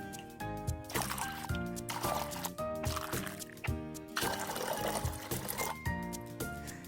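Water is poured into a container to make brine for soft-boiled eggs, a close, bright glugging and splashing that fills the vessel in uneven surges, heard alone and fairly quiet.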